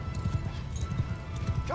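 Cavalry horses galloping in a Mount & Blade II Bannerlord battle, a steady rapid clip-clop of many hooves with a neigh near the end, heard alongside faint battle noise.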